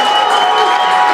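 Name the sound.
home football crowd cheering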